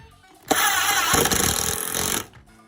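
A power driver runs screws home into wood in a workshop, one sustained buzzing burst of about two seconds, loud and close, starting abruptly and stopping cleanly with no talk.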